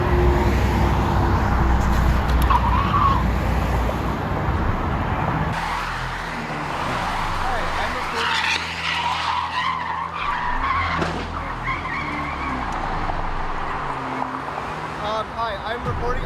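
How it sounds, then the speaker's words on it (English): Cars skid with squealing tires in a multi-vehicle highway pile-up, loud and close, under a voice narrating. "You'll see as many cars swerve at the last second, and a few more crash into the pile."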